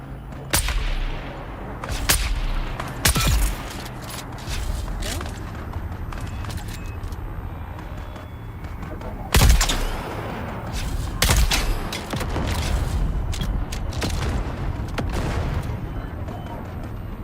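Video game Dune: Awakening: NPCs fighting nearby, with sharp gunshots and bursts of fire scattered irregularly over continuous game ambience, some loud and close, others fainter.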